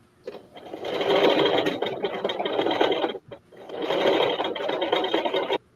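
An embroidery sewing machine stitches a preloaded design in two long, loud bursts of rapid mechanical whirring and needle clatter, separated by a short pause.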